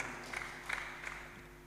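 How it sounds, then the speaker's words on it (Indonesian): A church congregation at a Pentecostal Sunday worship service claps in three evenly spaced bursts. The sound is faint and distant over a steady background hum. "Tepuk tangan bagi Tuhan."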